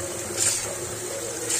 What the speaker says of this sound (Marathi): अशाच प्रकारे सगळे गहू निथळ, हे बघा, निथळ पाणी निघेपर्यंत धुवून घेतले